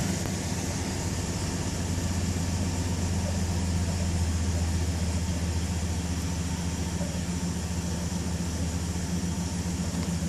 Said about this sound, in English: getting ready to start the truck for the first time